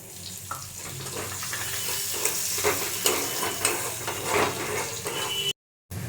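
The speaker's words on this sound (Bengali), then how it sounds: "পেঁয়াজটাকে ভালো করে ভেজে নেব" Onions sizzle and crackle in a hot pan, with scraping stirs and small pops over a steady frying hiss.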